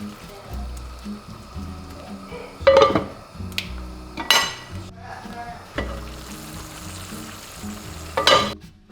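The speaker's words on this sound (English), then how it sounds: "I'm just gonna stir this together, mix it up, and then let that broccoli warm up." A pan of sauce, chicken broth and broccoli being stirred, with soft simmering under several sharp scrapes and clinks of a utensil against the pan, close and moderately loud.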